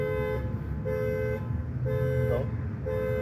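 A car alarm blares on a street, a loud repeating electronic tone cycling in regular bursts with brief gaps, while faint voices and street noise sit underneath.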